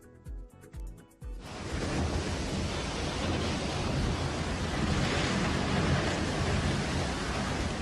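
Strong wind batters rice barns and buildings at Tongkonan Karatuan in Tana Toraja, South Sulawesi, a loud continuous roaring rush after a few brief thumps at the start.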